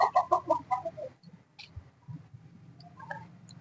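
A rooster clucking near a school rooftop, opening with a quick burst of loud rhythmic clucks that fade, then sparse quieter calls and small rustles, with one more short cluck near the end.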